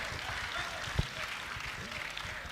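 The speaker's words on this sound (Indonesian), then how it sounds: "Wah, tepuk tangan." A crowd of residents claps at a political gathering in Probolinggo, Indonesia. The applause is a dense, moderate patter with voices mixed in, fairly steady and moderately close throughout.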